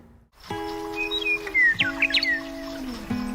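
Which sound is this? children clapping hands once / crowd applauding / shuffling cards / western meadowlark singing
western meadowlark singing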